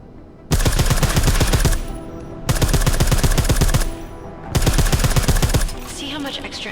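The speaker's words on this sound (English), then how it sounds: "I like how silencers reduce sound, but the trade-off is less stopping power" Silenced automatic gunfire in the game Deus Ex: Mankind Divided comes as three sustained rapid bursts with short gaps between them, loud and close, with no talking.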